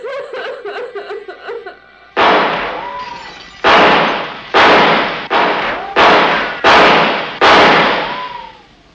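Gunshots in a 1972 horror film: a run of about six or seven loud, sharp shots with short echoing tails, fired in an uneven rhythm after a brief stretch of laughter-like voices.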